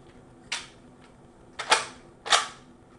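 Three sharp plastic clacks from a Nerf Barrel Break blaster as it is handled and a dart is loaded, one near the start and two louder ones close together later, with quiet between.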